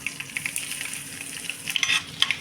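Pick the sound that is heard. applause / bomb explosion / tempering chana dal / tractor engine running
tempering chana dal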